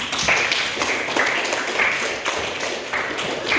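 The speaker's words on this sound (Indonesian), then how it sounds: "Tepuk tangan untuk kita semua." Classroom applause after a teacher's call to clap for everyone, a dense steady patter of hands filling the room for a few seconds at moderate loudness, with faint voices mixed in.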